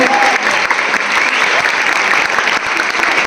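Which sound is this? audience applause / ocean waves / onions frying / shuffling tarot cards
audience applause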